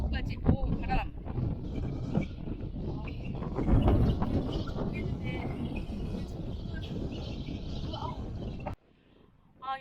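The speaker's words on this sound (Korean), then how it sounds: "오늘 날씨는 좋은데 근데 바람이 굉장히 세가지고 지금 소리가 잘 들릴지 모르겠어요" Strong wind buffets the microphone at Tiger Leaping Gorge in China, a loud rumbling roar that gusts under a person speaking before dropping away abruptly near the end.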